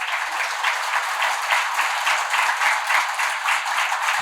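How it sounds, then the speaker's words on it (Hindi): Loud, sustained audience applause at a golden jubilee celebration in Nagpur, a dense steady clatter of many hands running without pause for the whole stretch. "और जोरदार तालियों के साथ में"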